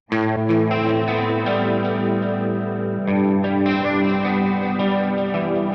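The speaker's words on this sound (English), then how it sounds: "most of the reverb is leaning to that side of the mix where the guitar is" A single electric guitar panned to the right plays sustained chords soaked in convolution reverb, loud and close, one chord ringing out then a fresh strum near the midpoint with a lingering wash of tail.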